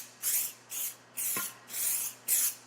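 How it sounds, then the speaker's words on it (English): A spray-on general purpose release agent being applied for plaster casting, five short hissing bursts from an aerosol can in an even rhythm, close and moderately loud, with no talking. "spray-on general purpose release agent"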